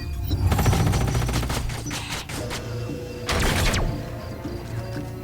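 Units firing weapons in the turn-based strategy video game Age of Wonders: Planetfall, a rapid rattling volley of shots followed by a second short burst around the middle, loud and close with no talk over it.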